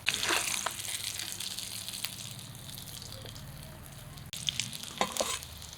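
Large katla fish pieces frying in oil in a wok give a steady, close, bubbling sizzle that holds throughout, with a brief clatter and a livelier burst of crackling near the end.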